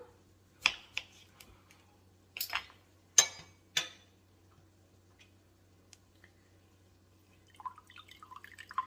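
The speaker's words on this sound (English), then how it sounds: "We're going to juice 1 more lime." Lime being juiced by hand for a strawberry margarita pie, giving a few short, separate drips and squirt-like taps spread over several seconds, fairly close and alone, with faint clinks near the end.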